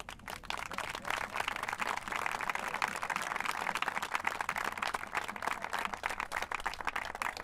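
A crowd at an outdoor village celebration applauds in memory of the drummer, dense sustained clapping from many hands heard at moderate distance, continuing steadily for several seconds.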